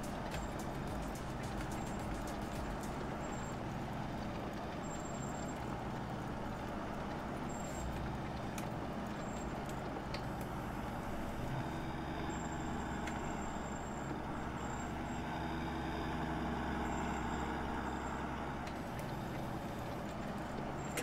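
Tractor engine in the Farming Simulator 19 video game, a steady low diesel drone with a faint rattle running continuously at moderate, fairly quiet level with no talk.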